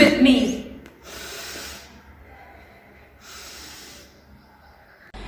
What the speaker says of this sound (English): Everyone do sniffing with me.